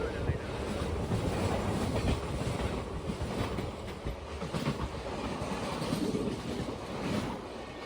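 Tirunelveli SF express rumbles along at speed near the Krishna Barrage, a continuous loud rattle of wheels on rails mixed with heavy wind buffeting, heard from inside the moving train.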